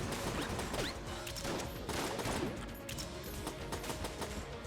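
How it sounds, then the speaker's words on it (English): Dense, continuous bursts of gunfire and explosions from the game Enter the Gungeon crackle and boom throughout, loud and busy with no pauses. "Explosions happening."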